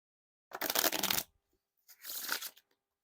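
Two brief, close riffles of Bicycle playing cards, each a bright fluttering rush lasting under a second, separated by a short pause.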